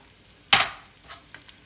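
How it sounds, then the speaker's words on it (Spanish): Spinach tossed into a pan of oil with browning garlic, a sudden loud sizzling burst that fades into a soft crackle, with a couple of faint stirring scrapes after. "entonces voy a agregar todas las espinacas"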